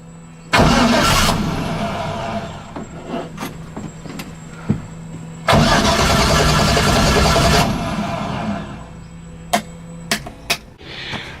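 An LS1 V8 swapped into a BMW E30 cranks and fires twice in its first exhaust start, each attempt a loud, close burst of a few seconds that cuts off, followed by sharp clicks and knocks in the quiet between.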